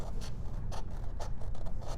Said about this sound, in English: I'm going to go ahead and cut out the template here